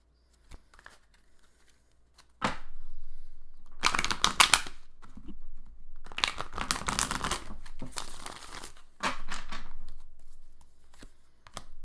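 Tarot cards are shuffled by hand in short bursts of riffling and crinkling, close up, with quiet pauses between them.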